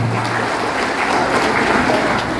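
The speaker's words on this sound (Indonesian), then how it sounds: "Tepuk tangan untuk kita semua." Audience applause fills a Pemuda Pancasila regional meeting in West Java: dense, steady clapping from a crowd, loud and sustained without a break.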